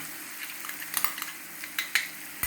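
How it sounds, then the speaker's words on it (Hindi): Yogurt is stirred steadily into a Kashmiri dum aloo masala in a pan, producing soft sizzling with repeated spoon scrapes and a few sharper metallic clinks against the pan. "इसको हम लगातार चलाते रहेंगे, नहीं तो ये हमारा फट जाएगा।"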